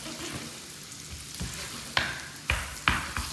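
Meatballs sizzling in garlic in a pan, a steady frying hiss punctuated by several sharp scraping or stirring bursts toward the end, close and moderately quiet, with no talk.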